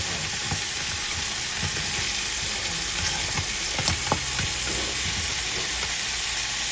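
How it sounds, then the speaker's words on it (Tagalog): Vegetables sautéing in a pan for ginataang beans and squash with crab, giving a steady loud broadband sizzle and hiss with occasional scrapes and clinks of stirring, close by and with no talking. "Nagisa pa natin ng more"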